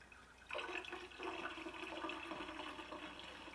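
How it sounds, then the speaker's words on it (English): Steady broadband whooshing and watery churning from a running dishwasher, continuous and moderately close, with no voices. "my dishwasher's running, that's what all that noise is"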